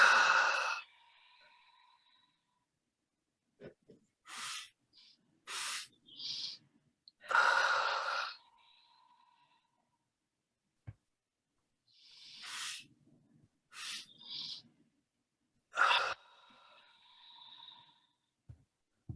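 Double breathing during a guided meditation: repeated sharp nasal inhalations in pairs followed by longer sighing exhales, close and breathy against near silence, with no talking.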